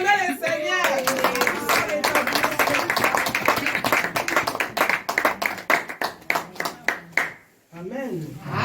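A church congregation claps together to acclaim the Lord, building from scattered applause with a voice speaking over it into a steady rhythmic clapping that ends in a brief pause.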